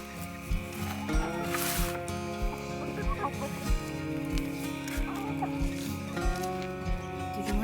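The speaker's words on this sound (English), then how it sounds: "check on our chickens" Backyard chickens cluck and squawk close by in a busy, overlapping chorus, while a steady low rhythmic thumping runs underneath throughout.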